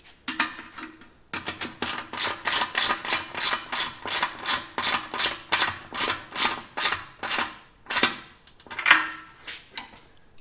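Fuel tank fittings on a sand rail being tightened by hand, with a rapid series of about twenty regular ratcheting clicks and scrapes, close and distinct, with no talking.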